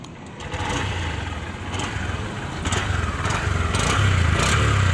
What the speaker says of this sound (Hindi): तो चलिए इस बाइक का अभी एक एग्जॉस्ट नोट सुनते हैं।